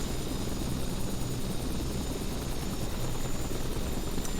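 Helicopter rotor and engine in Flight Simulator X, a steady loud whirring drone with rhythmic blade chop running the whole time, no talk.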